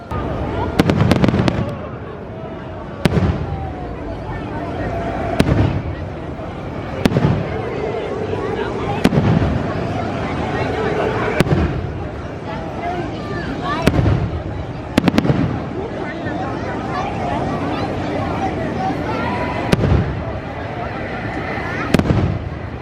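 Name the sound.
fireworks exploding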